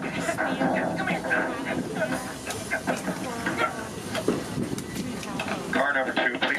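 Walt Disney World Railroad steam train rolling along with steady chuffing, hissing steam and clicking wheels, while character voices and an onboard announcer talk over it.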